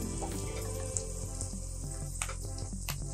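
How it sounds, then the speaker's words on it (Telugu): Onions with salt, green chilli and carrot fry in a pan, a low steady sizzle with scattered small pops and faint stirring scrapes, quiet and close, with no voices. "సాల్ట్ వేసుకున్నామండి, త్వరగా ఫ్రై అవుతాయి ఆనియన్స్"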